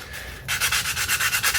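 Rhythmic back-and-forth sanding strokes on a wooden knife handle, about eight quick, even rasps close up after a brief quiet start.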